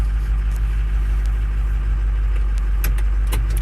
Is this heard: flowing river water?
no